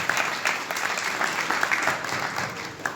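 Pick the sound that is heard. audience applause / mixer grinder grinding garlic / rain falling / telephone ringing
audience applause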